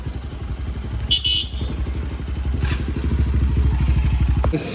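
A motorbike idling close by with a steady low, rapidly pulsing engine beat and a few clattering knocks, a brief hiss and clunk near the end, no speech.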